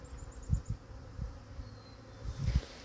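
Honeybees buzz softly and intermittently around a dead-out hive on a mild February day, with light low thumps and handling noises close by and no talking.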